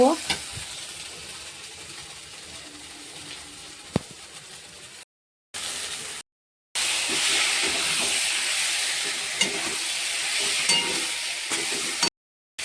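Boiled soybeans stir-fried in spices in a pan, an intense close hissing sizzle that swells loudly, broken by a few brief silent cuts, with occasional scrapes and clinks of stirring.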